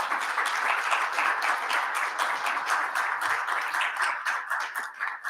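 Audience applause welcoming the mayor of Limassol, Yanis Armeftis, at a commemoration event, a lively, rhythmic burst of many hands clapping, close and sustained, with scattered cheers and no speech over it.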